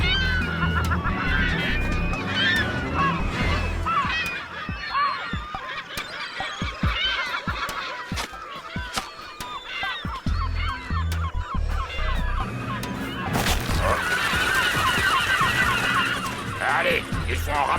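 Cartoon birds on a cliff honk and squawk in a busy, overlapping chorus over a music bed, with a louder burst of calls near the end.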